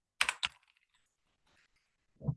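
A short burst of computer keyboard typing, close and quiet: a couple of quick keystrokes, then faint ticks and a soft thud at the end.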